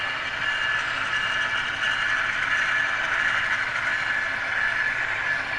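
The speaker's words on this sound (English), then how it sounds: "The horn will blow, and the train will slowly make its departure." A steady mechanical whirring and clatter of a departing model train runs continuously at even loudness, close by, with no voices.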